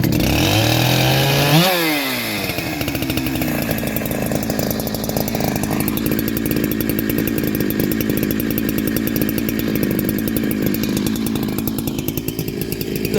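A Chinese-made 62cc chainsaw, a patched-together frankenstein build, roars loudly and steadily at close range after a quick rev, holding a rough, buzzing high idle throughout.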